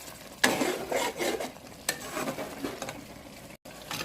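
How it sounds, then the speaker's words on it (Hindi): Potatoes with green chillies and dried fenugreek leaves are fried and stirred in a pot for aloo bhujia, with close spoon scrapes and clinks over a low sizzle, pausing briefly near the end. "1 से 2 मिनट तक भूनेंगे।"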